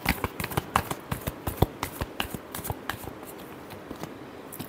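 Tarot cards are shuffled by hand in a quick, uneven run of crisp slaps and riffles, close and fairly quiet, with no voice.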